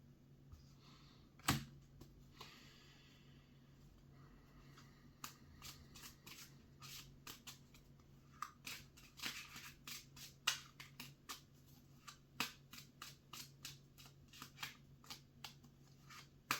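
Tarot cards are shuffled by hand in a quiet room, with repeated crisp riffles and slaps in irregular bursts, close and clear with no talking.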